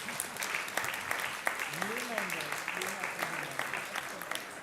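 An audience at a conference on women's rights claps in sustained applause, a dense patter of hands with a voice speaking over it.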